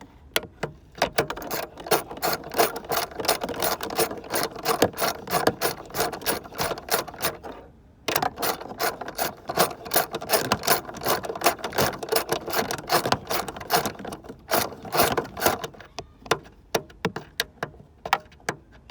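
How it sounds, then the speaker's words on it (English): A ratchet wrench backing a nut off a car's rear strut, clicking rapidly and continuously in close, dense bursts with one brief pause partway through. "ratchet in all the way till she come off"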